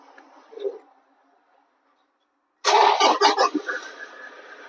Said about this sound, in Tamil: வண்டி ஸ்டார்ட் பண்ணி காட்டுறேன்